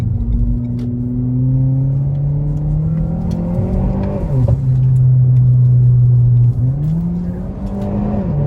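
A Renault Megane 4 GT with its silencer removed revs and accelerates nearby, a loud droning engine note climbing in pitch, dipping briefly at a gear change around the middle, then holding a steady roar and rising again.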